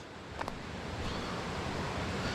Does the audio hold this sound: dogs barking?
no